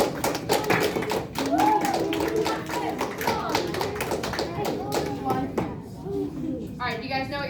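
Fifth-grade classroom children clapping and tapping in a steady run of sharp claps, with kids' voices calling out encouragement over it throughout; the clapping thins toward the end.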